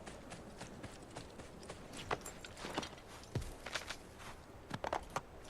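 Horse hooves clopping in Assassin's Creed II, a steady series of light, moderately close footfalls with uneven spacing and a few sharper impacts over quiet game ambience.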